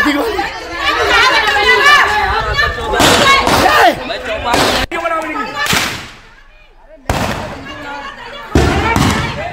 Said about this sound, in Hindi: सुनिए आप, ये आवाजें बता रही हैं किस तरीके से वहां पर दहशत कायम करने के लिए वहां पर किस तरीके से फायरिंग हुई